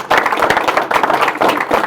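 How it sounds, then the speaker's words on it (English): An audience applauds a presenter named Lisa at a preparedness event, a steady burst of close, dense hand clapping that swells and dips over two seconds with no voices on top. "let's give Lisa a round of applause"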